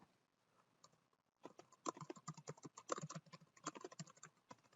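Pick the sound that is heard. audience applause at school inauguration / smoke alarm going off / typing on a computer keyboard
typing on a computer keyboard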